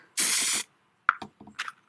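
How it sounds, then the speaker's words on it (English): Silver spray paint from an aerosol can sprayed liberally onto fingers: one steady hiss lasting about half a second, followed by a few short clicks and rattles from the can. "just going to hold it and spray my fingers liberally"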